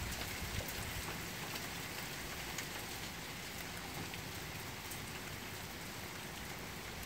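Rain falling steadily on a freezing morning during a thunderstorm, a dense continuous hiss of drops on surfaces with scattered nearby pattering and no voices.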